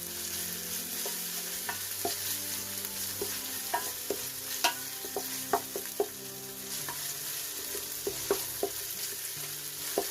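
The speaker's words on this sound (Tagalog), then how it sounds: "Lagyan na natin ang ating luya o ginger. Tuloy-tuloy lang po natin ang paghalo." Ginger sautéing in a pan with a steady sizzle, while a utensil scrapes and taps the pan in irregular bursts as it is stirred continuously.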